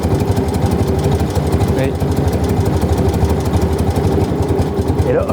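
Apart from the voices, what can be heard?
BMW R75 motorcycle engine revving up and dropping back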